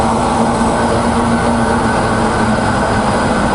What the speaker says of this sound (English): As we adjust it, we can hear the speed of the motor change.